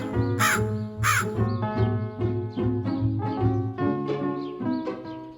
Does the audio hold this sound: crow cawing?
yes